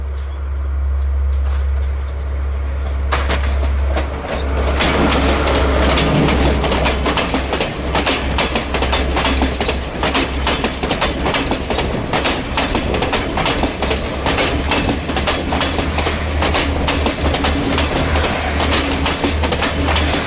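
A train rumbles steadily past on the rails between Heel Oya and Kital Ella, Sri Lanka, its wheels clattering in a loud continuous stream, close by with no voices.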